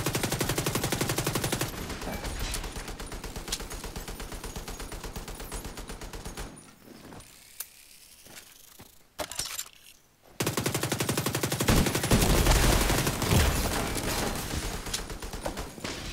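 A small submachine gun in The Division 2 fires long rapid automatic bursts, loud and close, with a brief quieter pause midway before firing resumes.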